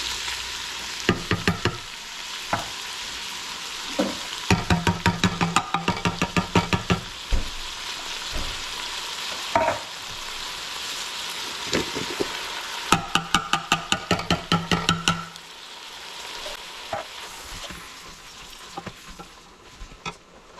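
Canned diced tomatoes with green chili sizzle and fry in a pan, with a steady hiss broken by bursts of sharp crackling pops and occasional utensil knocks, heard close and alone.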